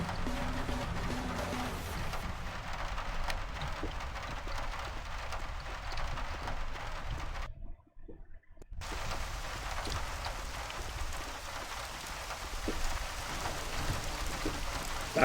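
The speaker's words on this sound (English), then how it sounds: "Back outside, I can hear the rain." Rain falls in a first-person video game, a steady dense hiss that stays even throughout and drops out briefly for about a second midway before resuming at the same level.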